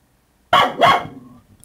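A dog gives two quick, loud barks close by after a moment of silence, and the second bark trails off into quiet.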